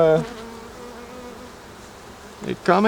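Honeybees buzz at an open beehive during a frame inspection, a steady drone running through the clip and rising in brief louder swells at the start and near the end.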